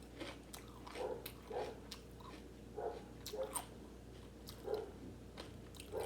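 Quiet, close chewing of a mini apple pie dipped in sour cream in a home kitchen, a series of soft crunchy bites spaced a second or so apart with no talk.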